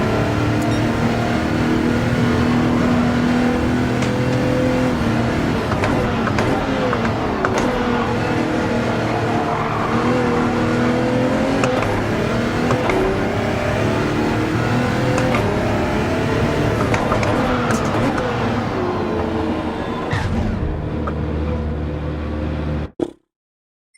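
A race car engine in Gran Turismo 7 drones loudly and continuously onboard, revving up and down through gear changes with a steady mechanical whine for over twenty seconds before cutting off abruptly.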